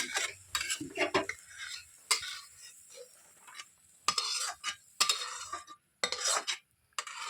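A utensil stirs and scrapes through fried egg and chopped tomato in a wok in short, irregular strokes, with clinks and faint sizzling between them, close and alone.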